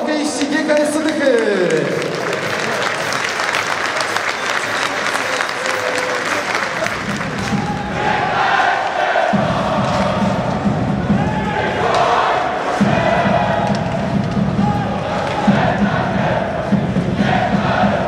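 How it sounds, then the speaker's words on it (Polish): Ice hockey crowd at a GKS Tychy match applauds and cheers the home players, a loud sustained roar of clapping and shouting with an announcer's voice over the arena. "Jeszcze raz duże brawa hokeiści GKS-u Tychy!"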